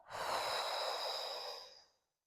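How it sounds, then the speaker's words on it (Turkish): One deep, breathy exhale through the mouth during a pilates stretching exercise, close and soft, lasting about two seconds before fading to silence. "Özellikle bu harekette bir balonu üfler gibi derin nefesler vermeye çalışın."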